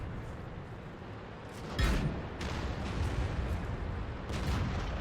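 An IS tank's cannon fires in the World of Tanks game, a single heavy boom standing out from the low rumbling battlefield ambience, followed by fainter distant shots.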